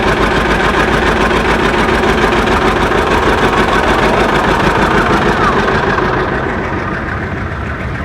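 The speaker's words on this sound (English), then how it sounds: "Here comes another John Deere. This is a John Deere L." An antique John Deere L tractor engine runs steadily at a Maryland steam show, a loud continuous rumble that fades slightly toward the end, with someone talking over it.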